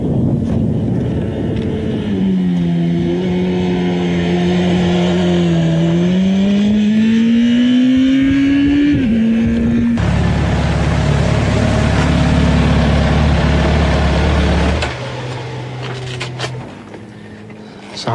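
A motorcycle being ridden, its engine droning and rising in pitch as it accelerates, then shifting to a lower, rougher note with heavy wind buffeting, before easing off near the end.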